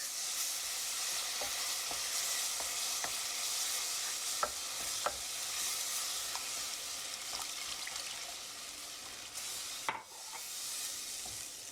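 Milk is poured into a flour roux in a hot pan for a mac and cheese sauce, giving a steady sizzle with soft stirring scrapes and a few light spoon clicks against the pan.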